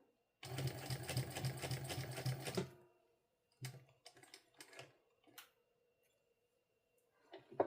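A sewing machine stitches fabric for a sling bag at a long stitch length: one loud run of rapid, even stitching for about two seconds, then several short bursts and clicks separated by quiet gaps.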